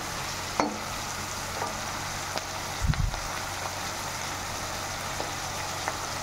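Curry leaves dropped into hot oil for a mutton dabba fry, giving a steady low sizzle with a brief louder crackle burst partway through and a few faint clicks, no voices.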